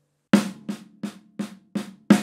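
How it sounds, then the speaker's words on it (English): Six quick strokes on a snare drum, played alone as a crisp, evenly spaced roll with the first and last hits slightly stronger. "Play it on the snare drum, sounds like this."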